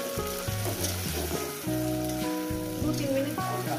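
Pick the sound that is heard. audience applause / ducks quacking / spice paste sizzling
spice paste sizzling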